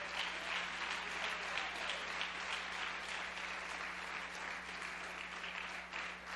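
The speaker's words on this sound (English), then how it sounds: "Clap your hands louder unto the Lord." A church congregation claps hands steadily and loudly in worship, a dense continuous wash of applause filling the room for several seconds with no voices on top.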